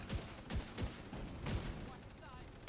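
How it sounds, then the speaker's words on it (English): Gunfire from The Division 2 video game crackles in several sharp, evenly spaced bursts over a dense, noisy background, fading into a rougher rumble toward the end. "I shot 300 bullets in his head"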